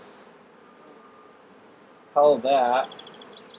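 Honey bees buzzing during a hive inspection, a low, faint, continuous hum in the background, briefly covered by a short spoken phrase near the end.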